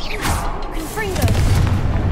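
A Confringo fire spell explodes in Hogwarts Legacy, a booming burst with crackling tail rising over game sounds, close and loud.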